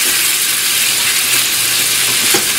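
Chicken pieces sizzle and fry steadily in a hot pan while being stirred, a loud continuous crackling hiss with faint scraping, no voices.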